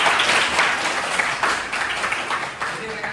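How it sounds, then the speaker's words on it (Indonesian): Applause for a student named Tasya at a teaching session, a steady patter of clapping from a room full of people lasting a few seconds. "Tepuk tangan buat Tasya."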